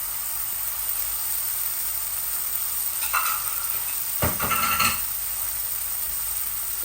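Garlic and onion leaves fry in a pan with a steady, loud close sizzle, broken briefly by stirring and scraping sounds near the middle, with no talking.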